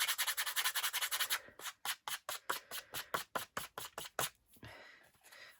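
Embossing powder is rubbed off a card with a quick run of close, dry rubbing strokes, each a short, soft scrape, steady and rhythmic, with no talking.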